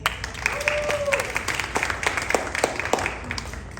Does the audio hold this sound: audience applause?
yes